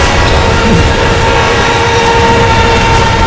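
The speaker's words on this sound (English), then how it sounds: "the train sounds like somebody fucking screamed." A train passes loudly and close by, a continuous dense roar with a steady high screech over it, no voices heard.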